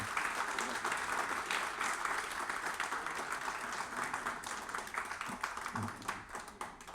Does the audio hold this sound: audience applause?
yes